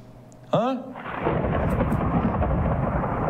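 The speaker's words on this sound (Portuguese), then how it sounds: "Bota som, tem som de trovão aí?" A studio thunder sound effect played on a broadcast, a sudden crack after a brief tonal sweep, followed by a sustained loud rumble with a rain-like wash.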